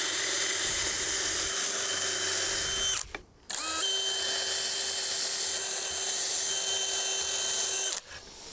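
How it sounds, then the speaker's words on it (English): A power sander whines steadily on wood for a deck landing post, running close and loud in two long stretches separated by a brief pause, then cutting off near the end. "I just got to sand"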